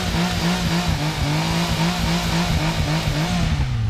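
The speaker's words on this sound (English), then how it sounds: "The triple engine is a real distinctive sound and I absolutely love it" A 2016 Triumph Speed Triple R three-cylinder motorcycle engine runs close by, a loud, steady throaty drone with rhythmic pulsing as it holds revs.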